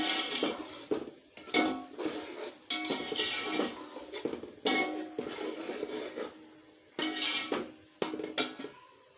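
Whole spices such as cloves, black cardamom, cinnamon and bay leaf being stirred in a metal cooking pot for Sindhi biryani, with repeated close clinks and scrapes of a spoon against the pot in uneven bursts.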